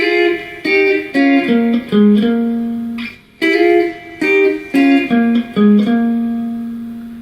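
A short blues electric guitar lick of sliding, bending notes, played alone with clear pauses between the phrases and a lingering final note.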